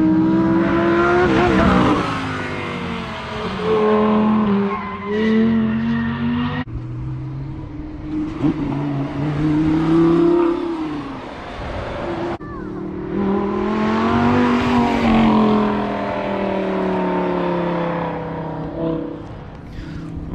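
Racing car engines, including a Lamborghini, in a video game rev and whine through rising and falling gear shifts, loud and close, with brief squeals as a car slides, continuing for the whole stretch.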